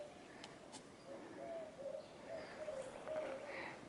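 Birds call softly in the quiet Cañón de Fernández along the Nazas river in Durango, with repeated dove-like coos and a few faint chirps over a hushed outdoor background.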